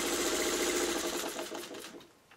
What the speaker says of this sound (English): I stay stitch within the seam allowance